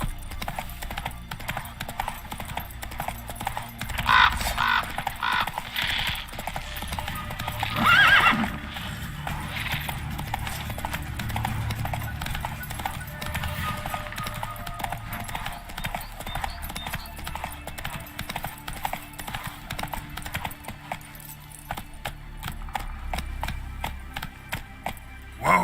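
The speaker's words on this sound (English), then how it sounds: "Whoa there, Roach" Horse hooves clip-clop steadily in The Witcher 3 video game, with a whinny and a couple of louder bursts over a continuous moderate background.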